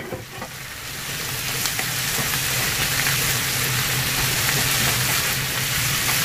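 Yakisoba noodles stir-frying in a hot pan with vegetables and chicken stock powder, a steady loud sizzle that swells and holds throughout, with faint scraping of the utensil and no speech.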